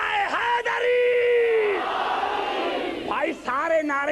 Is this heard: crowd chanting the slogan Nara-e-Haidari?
yes